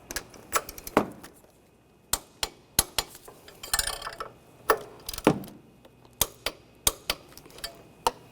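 A torque wrench tightening bolts during a timing belt and water pump job on a Honda Pilot V6: a string of sharp close metallic clicks and ratchet snaps in uneven bursts, with some clatter between.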